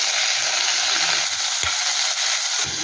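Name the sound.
onion, coriander and curry leaves sautéing in a pan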